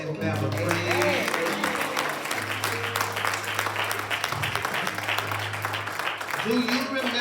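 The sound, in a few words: congregation clapping hands in praise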